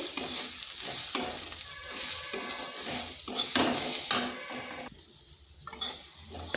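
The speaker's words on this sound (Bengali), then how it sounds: "সামান্য ধনে গুঁড়ো আর সামান্য জিরা গুঁড়ো ভালো করে ডালের সাথে মিশিয়ে নিচ্ছি" Lentils mixed with coriander and cumin powder being stirred in a hot pan, loud close sizzling broken by repeated scraping and clinking of a spoon, continuous with no voices.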